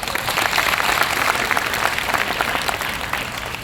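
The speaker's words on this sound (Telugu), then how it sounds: "ఆల్ లీడర్స్ ఒకసారి జోర్ క్లాప్స్." An audience claps together in a steady burst of applause that stays loud and dense throughout, with no voice over it.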